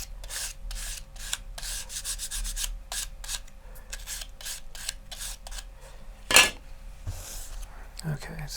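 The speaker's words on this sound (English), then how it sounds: "I'm going to also scuff up the surface that I'm going to put the glue on" Sandpaper scuffs the surface of a paper model rocket tube in quick, close, rhythmic rubbing strokes, with one sharper scrape near the end and a voice speaking faintly in the background.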